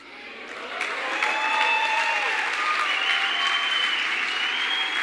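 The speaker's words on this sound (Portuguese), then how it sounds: "Uma salva de palmas para eles." Applause from a church congregation for a junior group after an evening service, a steady wash of clapping that swells after the first second and holds loud, with faint crowd voices.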